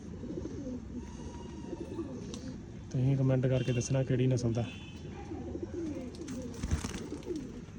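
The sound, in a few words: pigeons cooing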